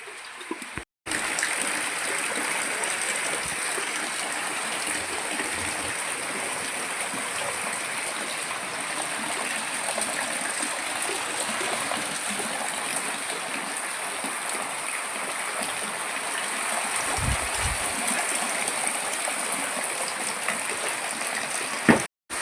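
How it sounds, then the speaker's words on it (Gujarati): Heavy monsoon rain falls outdoors in a steady, dense hiss that continues unbroken for the whole stretch. There are only momentary dips near the start and end, and no voices. "અને જો વરસાદ મસ્ત આવે છે"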